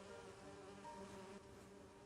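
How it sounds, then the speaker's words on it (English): Bees buzz steadily at an apiary in a nostalgic murder-mystery video game, a dense continuous drone with no voices over it. "It's the apiary. I need to subdue the bees first."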